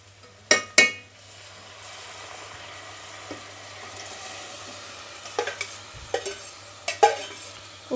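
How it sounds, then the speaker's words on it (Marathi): Boiled potato, cauliflower and carrot being stirred into a frying pav bhaji mixture, a soft steady sizzle broken by a few sharp clinks and scrapes of a spoon against the pan. "आता सगळे उकडलेल्या भाज्या टाकून घ्याव्या लागणार त्याला"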